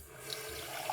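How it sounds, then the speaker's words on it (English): Kitchen tap running water into a glass, a short steady hiss of flowing water, fairly quiet and close, with no voices. "Getting some water."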